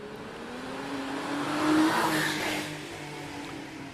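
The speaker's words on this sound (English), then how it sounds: "Time for Paul Renison in the 944 Porsche" A Porsche 944 racing up the Prescott speed hill climb, its engine note rising and swelling as it passes nearby and then fading, with a brief tyre squeal at the peak.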